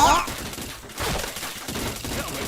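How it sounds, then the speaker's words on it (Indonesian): Rapid gunfire in a shooting video game, several quick bursts of shots in close succession with brief pauses between, heard near and fairly loud, while a player talks over it. "Kepalanya Yubasiri susah banget ditembak"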